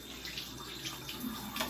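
Tap water running at a bathroom sink to wet a Beauty Blender makeup sponge, a faint steady splashing stream with small irregular spatters.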